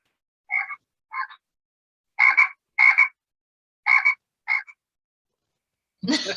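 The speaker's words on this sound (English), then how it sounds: "I'm dying for you to hear my frog." A motion-activated toy frog gives six short croaks in irregular groups, each a buzzy electronic ribbit, loud and close with silence between, before a voice begins at the end.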